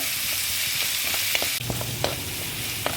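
Crushed garlic, about fifteen cloves, sizzles steadily in hot oil in a pan for chilli soya, a close, continuous frying hiss with a few stirring clicks and a brief louder burst midway.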